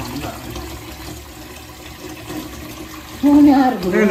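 Water runs from a tap into a home kitchen sink with a steady splashing rush, and a close voice talks over it toward the end.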